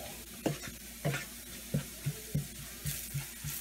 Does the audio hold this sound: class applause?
no